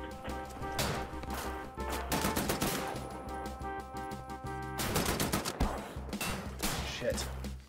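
Enemy machine guns in Wolfenstein: The New Order fire in loud, rapid bursts, broken by short pauses and layered with impacts, under a player's voice.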